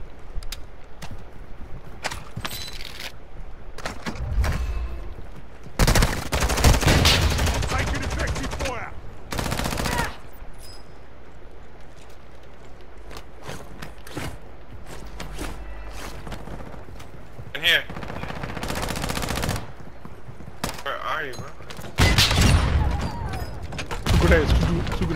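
Video game gunfire from a DA 556 rifle rings out in bursts and rapid volleys, some shots loud and others more distant, with voices talking over the action.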